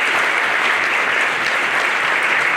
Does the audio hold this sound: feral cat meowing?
no